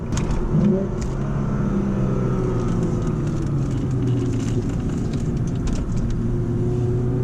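A 2007 Lexus IS 350 engine revs and pulls hard, a steady loud drone rising in pitch as it accelerates on a backroad, heard from inside the car.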